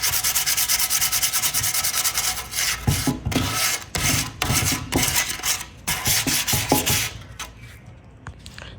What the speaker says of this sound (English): I'm just using 220 sandpaper.